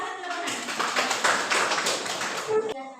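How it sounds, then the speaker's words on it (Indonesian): Students clap for a classmate in a classroom during a science lesson, a short burst of close, busy hand claps lasting a few seconds before cutting off abruptly. "kasih tepuk tangan buat Hana"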